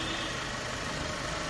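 A Mercedes-Benz E250 CGI engine idles in a steady, even hum, fairly quiet and unbroken, with no voices over it.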